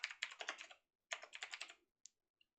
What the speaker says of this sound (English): More specifically, as I type,